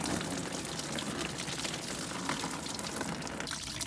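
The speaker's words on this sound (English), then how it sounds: "what I'm going to do now is move that Jubilee clip off and drain all the fluid" Engine coolant from an MG ZR with a leaking inlet manifold gasket draining out of a loosened hose clip into a bucket underneath, a steady continuous pouring and splashing of liquid at moderate distance.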